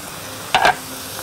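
Eggplant, chicken and tomatoes are stirred in a sizzling pan, a single brief scrape and sizzle burst standing out against a quiet background.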